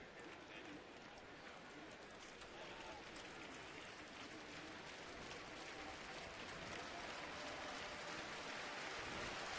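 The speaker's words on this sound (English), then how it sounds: "Crowd getting into it" A crowd at a Cleveland Indians baseball game makes a broad, distant roar of cheering that slowly builds in a large ballpark, with no single voice standing out.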